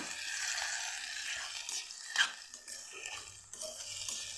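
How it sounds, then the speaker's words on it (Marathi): Ingredients for Maharashtrian eggplant bharit sauté in a home-kitchen pan, giving a steady near sizzle with soft scraping of a spatula stirring, and a brief louder clink midway. "याला पण छान परतवून घेते मी"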